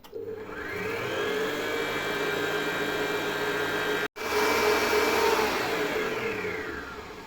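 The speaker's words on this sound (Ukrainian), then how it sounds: "І починаємо збивати на середніх обертах, а потім будемо більш до максимальних піднімати." An electric mixer whirs steadily as it beats egg yolks with sugar, rising in pitch as the speed increases, with a brief cutout midway before it resumes, close and alone.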